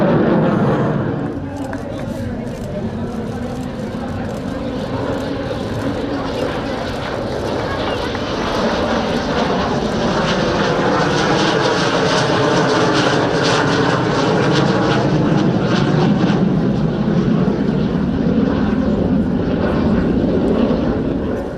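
MiG-21 jet fighters, single-seat and twin-seat, passing during a display at the BIAS 2019 airshow in Romania, a loud sustained roar of jet engines that swells and sweeps over about twenty seconds, with talking over it.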